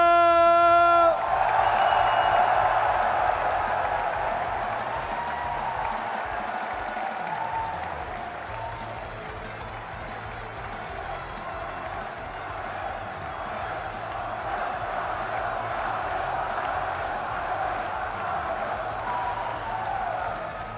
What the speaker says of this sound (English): just listen to that crowd when he receives his medal